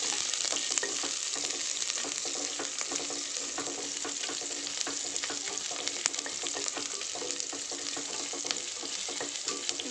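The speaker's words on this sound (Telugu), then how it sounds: "ఫ్రెండ్స్, పచ్చిమిర్చి వేసుకున్నాక ఇది ఆ ఉల్లిగడ్డ కూడా వేసుకోండి" Green chillies and onions frying in a pan give a continuous, fairly soft crackling sizzle with fine popping throughout and no speech.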